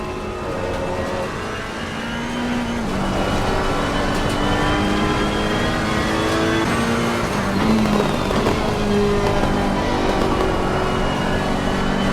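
A race car engine in the racing game Assetto Corsa Competizione at Kyalami, running at a sustained high-revving whine with shifting pitch and gear changes, loud and continuous throughout with no talking.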